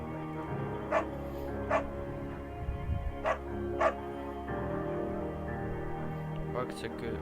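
Buck, the dog in the video game Firewatch, gives several short, sharp barks spaced a second or so apart over a steady background bed, alongside soft whimpering and panting.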